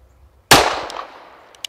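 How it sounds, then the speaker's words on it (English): A Tisas Raider pistol fires a single sharp, loud shot at a target seven yards away, with a quick ringing decay after a quiet lead-in. "On the first shot, my Tisas recall repaired Raider is a 7-yard tack driver."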